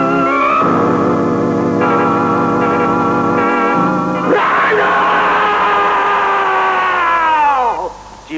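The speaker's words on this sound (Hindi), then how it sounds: "चीखने से क्या फायदा?" A person screams at full voice in a dramatic Pakistani action-film scene, a loud, raw, sustained yell that shifts pitch and breaks into a drawn-out wail near the end.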